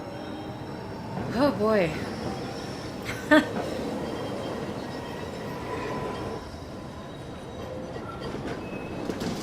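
A tram rolls along rails in the video game Syberia: The World Before, giving a steady rumbling drone with two brief wheel squeals and a clank, while a voice speaks briefly.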